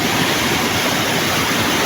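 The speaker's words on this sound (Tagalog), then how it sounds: "So bali kanyang kalakas ang bulwak ng tubig." Floodwater rushes down from a mountain in Doña Remedios during heavy rain: a loud, steady, dense roar of torrential water that fills the whole moment without a break.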